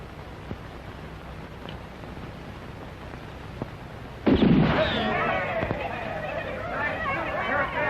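A rifle volley fires on command in a 1968 Italian western film, a single loud, close blast midway that leaves a crackling, echoing tail, with voices heard before it.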